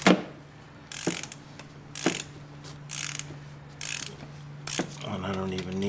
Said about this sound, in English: I'm going to use my extendable ratchet to get more torque, and that should have broke it free.